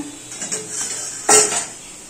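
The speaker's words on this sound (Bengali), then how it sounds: "আর এখানে মশলা কষানো চলছে" A spice paste is stirred and fried in a cooking pot: close, fairly loud metal scraping and clanking over a soft sizzle, with a heavier clatter partway through; no voices.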